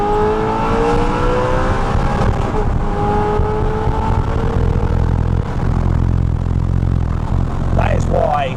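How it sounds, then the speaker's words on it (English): An Audi R8 engine revs hard through rising tones to the rev limiter, its exhaust loud and close, then drops off, with a brief voice near the end. "I hit the rev limiter there."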